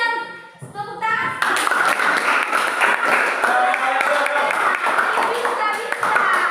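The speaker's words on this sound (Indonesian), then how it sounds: "Ayo semangat kelompok mari berikan tepuk tangan" Classroom students clapping for a group after a teacher's prompt, starting with a few voices then breaking into sustained, fairly loud applause with children chattering and cheering over it.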